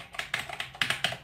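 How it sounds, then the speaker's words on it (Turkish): Rapid, crisp clicks from a Razer BlackWidow mechanical keyboard being typed on, a quick burst of close keystrokes with no talk over them. "Ha, şimdi yazıyorum. Lan klavye yazmıyor."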